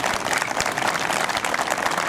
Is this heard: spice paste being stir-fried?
no